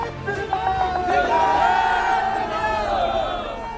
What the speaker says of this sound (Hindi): एक भीड़ सनातनी नारे लगा रही है